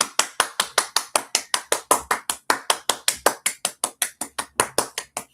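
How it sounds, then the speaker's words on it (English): Steady clapping from a small group of welcoming community members at a live show, sharp regular claps close and clear throughout with no talking. "Let's give our members a big round of applause."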